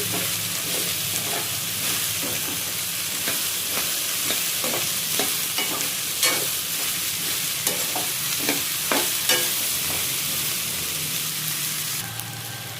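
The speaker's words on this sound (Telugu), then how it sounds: "మొత్తం పసుపు పట్టే వరకు ఒకసారి ఇలా మిక్స్ చేసుకోవాలి" Okra curry with turmeric is stirred in a frying pan, with an even loud sizzle and a long run of rhythmic spatula scrapes and taps close up, fading slightly at the end, and no speech.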